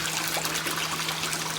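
Water runs steadily between aquaponics fish tanks, pushed by its own weight from one tank to the next, a continuous close trickling wash with a faint pump hum and no talking.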